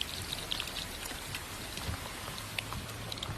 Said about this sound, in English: Exactly what they don't need anymore in Waverly, rain. It is coming down once again